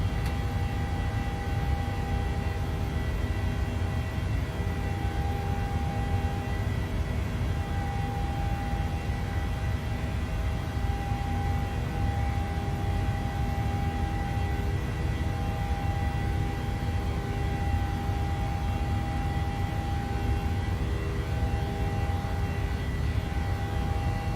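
A Boeing 737-700 in the PMDG flight simulator game departs with a continuous, even engine roar and steady cabin-like rumble, loud and unbroken throughout.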